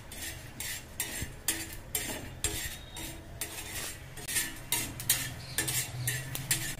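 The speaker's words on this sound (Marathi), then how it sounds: "मी थोडे शेंगदाणे, थोडेसे तांदूळ आणि थोडी चण्याची डाळ। याला सुद्धा आपण भाजून घ्यायचे" Peanuts, rice and chana dal dry-roasting in a pan, with a steady series of close, crisp scraping and rattling strokes as the grains are stirred against the metal, no talking.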